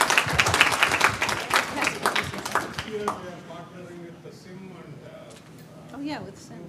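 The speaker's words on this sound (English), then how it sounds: "give everybody a round of applause" Loud, dense audience applause with many hands clapping close by, peaking early, then thinning into scattered claps and murmuring crowd chatter as people begin talking.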